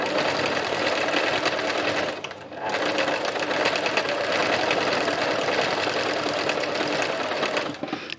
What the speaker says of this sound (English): Just lots and lots of free machine embroidery.